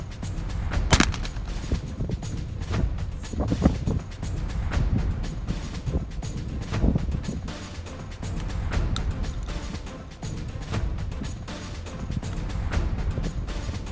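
Shotgun blasts ring out at an outdoor trap and skeet range. Several sharp reports come at irregular intervals over wind noise and rumble.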